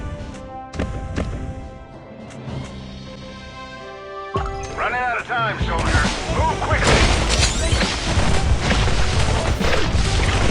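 Fire attack in the Last War mobile game, with sharp shattering crashes and thumps at first, then a dense, continuous burst of blasts and crackling impacts that grows louder and busier.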